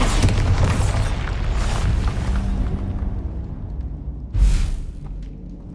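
The Bombarda blasting spell in Hogwarts Legacy goes off as a dull booming burst, with a rumbling tail fading over several seconds, followed by a second sharp impact near the end.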